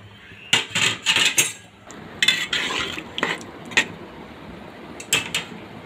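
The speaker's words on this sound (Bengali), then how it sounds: "দিয়ে আবারও নাড়াচাড়া করে দিলাম" A katla fish curry with sliced green chillies is stirred in a pan, giving several scraping, clinking strokes of a spoon against metal in short bursts with quiet gaps, close and with no talk.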